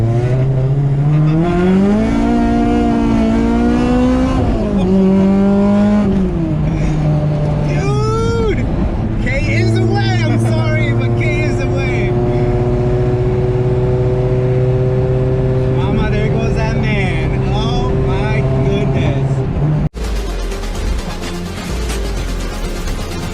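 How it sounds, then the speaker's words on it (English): A 1996 Honda Civic EK race car engine revs up and down loudly and close, rising and falling pitch then a long steady high hold, with an abrupt cut near the end; voices speak over it. "Let's see how this Civic sounds."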